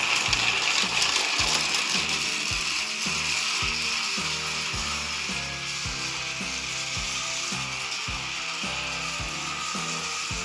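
A 2025 Thomas motorized toy train, a rechargeable Classic Thomas from a three-pack, runs with a loud, steady mechanical whir and a rapid repeating ratcheting clatter from its motor and gears throughout.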